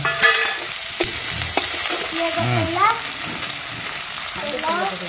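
Onion and potato frying in hot oil in a home kitchen, continuous close sizzling with occasional spoon clanks against the pan, while faint background voices and some bird-like chirps drift in and out.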